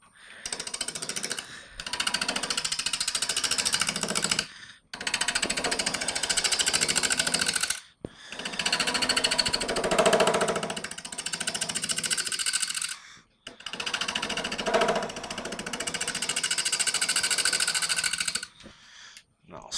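Loud, steady grinding roar of a wood lathe as a gouge cuts an Indian rosewood bowl, running in long sustained stretches broken by brief pauses, with a voice talking over it.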